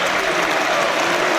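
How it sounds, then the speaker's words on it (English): A football crowd at a Wales versus Liechtenstein World Cup qualifier applauds steadily as an injured player is wheeled off, a brief dense wash of clapping with no break. "The applause is Williams, who's got his arms folded"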